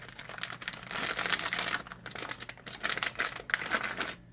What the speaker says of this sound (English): open up the envelope with the fax card in it.